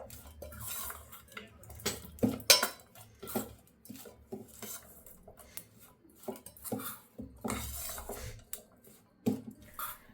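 Fresh turmeric pickle being mixed with coarse ginger-garlic paste in a bowl, a spoon scraping and clinking against the dish in irregular bursts, close and moderately loud, with wet squishy stirring between the knocks and no talking.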